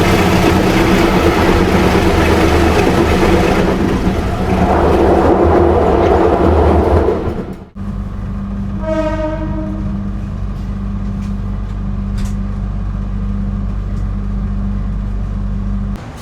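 The Gajah Wong passenger train runs loud and close into Purwokerto station at night, a heavy rumble that cuts off abruptly before a long train horn blast sounds under steady engine hum.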